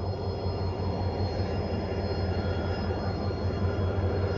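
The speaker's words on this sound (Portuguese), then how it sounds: "O trem já deve estar partindo também em alguns instantes" A tourist train on a metre-gauge line in Paraná with a G22 diesel-electric locomotive, idling as a steady, moderately loud low hum and rumble with a faint high whine, with no talk.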